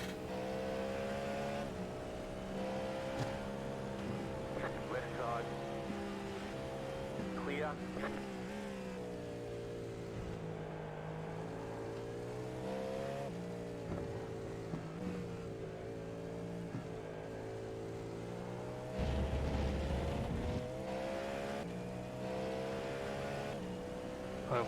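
GT3, LMP and LMP2 race cars lapping Sebring in a racing video game, engines droning and shifting pitch continuously throughout, with a louder surge near the end, under ongoing talk.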